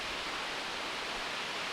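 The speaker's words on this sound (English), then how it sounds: "Another waterfall, Mo." A waterfall on a Madeira mountain hiking trail roars as a steady, dense wash of falling water, loud and continuous with no talk.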